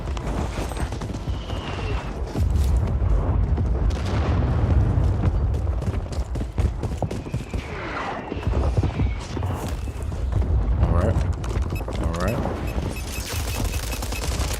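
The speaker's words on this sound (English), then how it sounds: "Friendly mortar strike on the way." Friendly mortar strike explosions in a war video game land amid heavy gunfire, with loud booms and rattling shots filling the scene while a voice talks over the battle.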